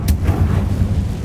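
A Confringo blasting spell explodes in the Hogwarts Legacy video game, a short sharp crack followed by a deep rumbling boom that lingers loudly.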